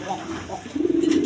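A pair of Khormun pigeons coos in low, rolling phrases that swell louder and steadier in the second half, with a voice faintly present in the background.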